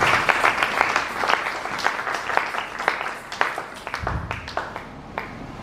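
Congregation clapping during a Sunday church service, a steady burst of many hands with a few sharper claps standing out, moderately close and continuing through the moment without speech over it.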